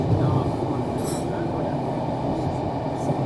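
A class 70 diesel locomotive and its train pass close by, a steady loud rumble of wheels and engine filling the whole clip with a faint high squeal near the middle.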